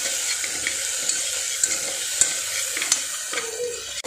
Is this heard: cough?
no